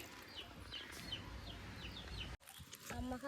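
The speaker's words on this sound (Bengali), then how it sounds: "চারিদিকে শুধু পাখির আওয়াজ" Chickens or other fowl cluck repeatedly outdoors on a warm afternoon, a faint, steady series of short calls over low background noise, followed by a brief clatter and a rising tone near the end.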